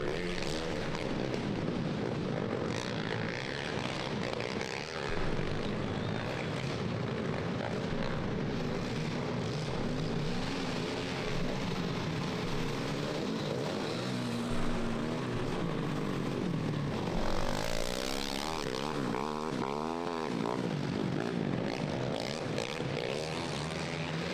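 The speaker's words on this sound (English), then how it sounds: "who doesn't love the sound of a 450 making their way around a GNCC" A 450cc off-road racing machine works its way around a muddy GNCC course, its engine a continuous droning roar that swells and fades slightly in pitch over the whole stretch, fairly close and steady, with no talking.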